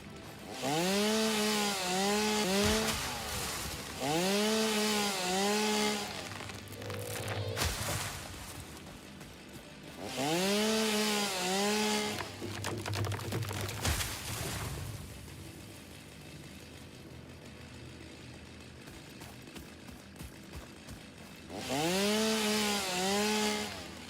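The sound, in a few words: chainsaw cutting trees in the video game Satisfactory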